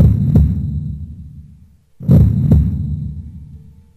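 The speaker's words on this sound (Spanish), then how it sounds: "Se escuchó como los latidos de corazón." Heartbeat sound effect: two deep, loud thumping double beats spaced about two seconds apart, each fading into a low rumble.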